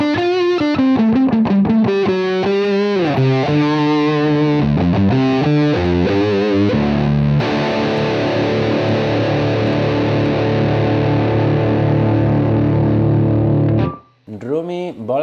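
Electric guitar running through a Universal Audio Dream 65 Brown amp plugin, heard alone as a loud, distorted stream of riffs and single notes. It shifts into a long sustained chord held for several seconds, then breaks off abruptly near the end.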